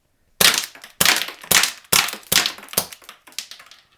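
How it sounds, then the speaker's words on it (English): HFC HG-107 Colt .25 green gas airsoft pistol fired into a box: six sharp, close cracks at a steady pace of about one every half second, each followed by a brief rattle, with no talking. "I'll just shoot into the box."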